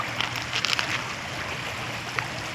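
Water rushing steadily into a river barrage near a bridge, a broad continuous roar with faint wind, heard from a short distance.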